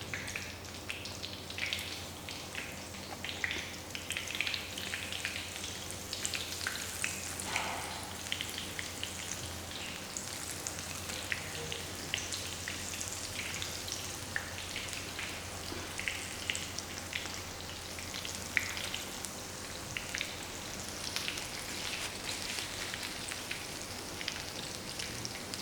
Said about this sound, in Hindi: आधी गोभी अभी मेरी फ्राई हो रही है